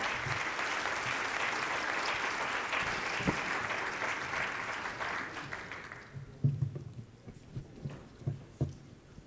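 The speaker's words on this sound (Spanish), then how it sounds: "Otro aplauso, por favor" Audience at a Mexican political and economic panel applauds loudly and steadily for about six seconds, then the clapping fades, leaving scattered low thumps and handling noises.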